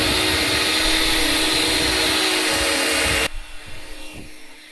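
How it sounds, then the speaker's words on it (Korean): A small vacuum cleaner roars steadily at close range, cleaning coffee grounds from a Eureka Mignon grinder, then cuts off abruptly and winds down into quieter rustling. "그렇게 청소기로 가지고 청소를 하고 있습니다"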